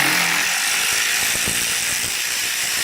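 An Earthquake impact wrench rattles steadily while pulling bolts off a 1976 Evinrude 55 outboard motor during water pump replacement, a continuous close, loud mechanical hammering with no talk.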